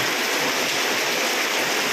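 Heavy rain pouring down in a dense, loud, unbroken roar close by, with no other sounds standing out.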